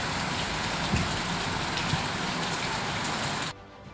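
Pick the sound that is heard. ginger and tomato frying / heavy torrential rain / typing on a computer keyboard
heavy torrential rain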